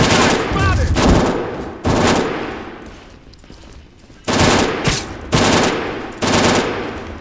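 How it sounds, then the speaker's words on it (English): Loud machine gun fire in the video game Brink, several sharp sustained bursts separated by brief gaps, close and dominant. "Three bursts of chest shots to kill him."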